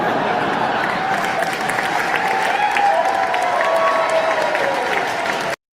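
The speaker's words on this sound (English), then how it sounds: "he's so happy that he's getting applause" A large crowd applauds Prince Harry with sustained, dense clapping at close range, steady for several seconds before cutting off abruptly, with a few faint shouts mixed in.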